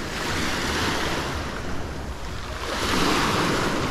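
Sea waves wash continuously onto a stony beach on Ekinlik Island in Turkey, a loud, close surf roar that swells toward the end, with wind buffeting the microphone and no voices.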